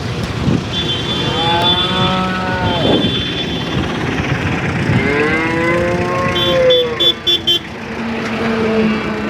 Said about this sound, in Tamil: இதில் ஒரு காரி நாட்டு மாடு ஒன்று இருக்குதுங்க.